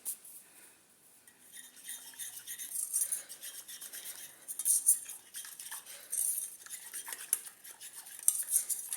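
A spoon stirs black seed powder mixed into a bowl for a natural hair dye, giving a steady run of soft scraping and light clinks against the bowl with no voices.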